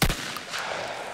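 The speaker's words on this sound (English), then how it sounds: "Since then, the sound of gunfire has picked back up here" Gunfire at a small-town trap shooting club, a single sharp shotgun report with a short echoing tail.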